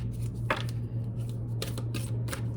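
Tarot cards being shuffled in a few soft papery bursts over a steady low hum, close and fairly quiet, with no talking.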